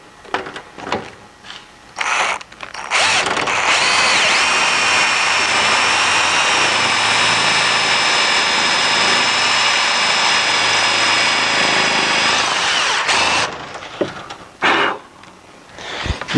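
A power drill with a 1/4 inch bit bores a hole while fitting a rear windshield to a 2010 Prowler UTV, giving a loud sustained whine for about ten seconds, with short tool bursts and clatter before and after.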